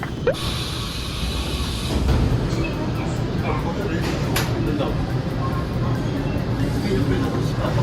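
A train rumbles and hisses as it slows into a station, a continuous loud low roar with brief squeals and clanks from the carriage.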